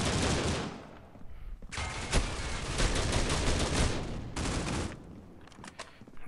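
Rapid gunfire from a Critical Ops shooter match comes in dense, loud bursts of automatic shots with brief pauses between volleys, and no voices.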